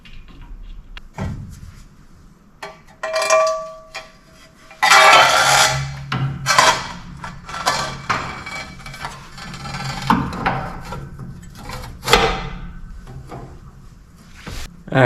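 Metallic clanks, knocks and scrapes ring out at close range while a nut is fitted onto a bolt on the pulley of a four-post car lift, with uneven bursts and short pauses in between.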